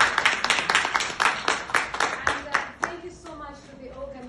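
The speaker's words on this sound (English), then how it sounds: "could we give ourselves a round of applause?" Scattered clapping from a small audience at a talk, as the attendees applaud themselves: a run of distinct, fairly close hand claps that thins out after about three seconds, when a voice begins speaking.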